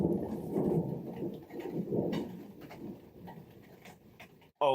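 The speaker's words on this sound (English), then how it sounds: "it's raining really hard outside" Heavy rain pours outside in a steady broadband wash, with a low rumble of thunder rolling underneath, fairly distant and continuous, with no talking, ending in an abrupt cut.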